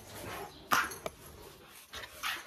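Dogs outdoors near a house in Turkey at sunset, giving a few short, fairly faint yips and barks spaced apart over quiet background noise.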